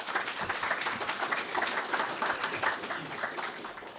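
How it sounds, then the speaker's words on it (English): A press conference audience claps steadily and moderately loud, many hands together with no talk over it. "Please clap for that."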